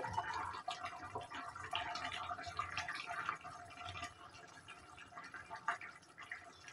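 Fried mola fish slipping into a bubbling curry with eggplant: soft, quiet liquid splashes and drips over a continuous low simmer, with no voices.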